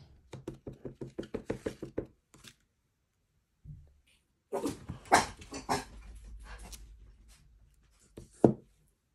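A quick series of raps knocks at a house door, then after a pause dogs bark and yap nearby in a scrappy cluster, ending with one louder bark.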